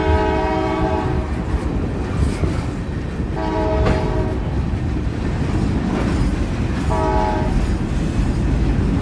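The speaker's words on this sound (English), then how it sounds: "Here's the train here." A freight train rumbles through a small-town railroad crossing on Meridian Street in Sunman, Indiana, its horn sounding three separate blasts over a continuous loud roll of wheels and cars, with no voices.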